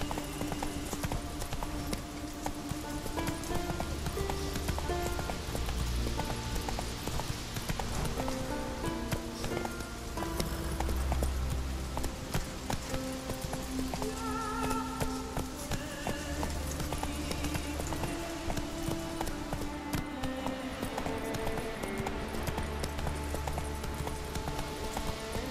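Galloping horse hoofbeats from The Witcher 3, a steady rapid clip-clop rhythm running throughout over a dense bed of game music and ambience.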